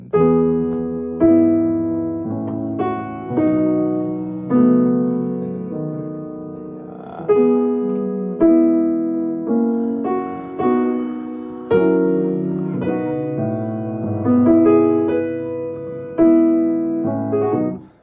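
Piano plays two short phrases in succession, each a run of clear struck notes, the second answering the first, with a brief pause between them.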